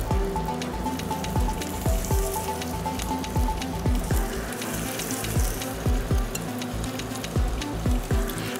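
Ingredients frying in hot oil for chicken masala, a steady crackling sizzle with repeated soft clinks and taps of a utensil against the pan throughout, fairly close, with no talk.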